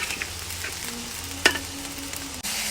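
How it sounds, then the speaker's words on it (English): Soya chunks fry with a ground spice paste, giving a steady close sizzle with scattered stirring scrapes, one sharp clatter midway and a brief dip near the end before the sizzle resumes. "Fry it till all the ground paste sticks to the chunks and see that it doesn't get burnt."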